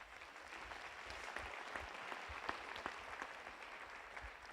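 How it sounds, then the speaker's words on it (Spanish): A church congregation applauds the Lord in a steady, faint patter of many hands, with a few sharper claps standing out and no voices over it. "Démosle un aplauso al Señor"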